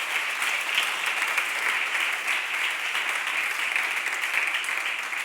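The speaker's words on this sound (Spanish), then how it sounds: "¿Me puedes dar un aplauso a Dios porque Él es un Padre bueno" A church congregation applauds God during a sermon, sustained dense clapping from many hands filling the room at a steady level for over five seconds, with no speech over it.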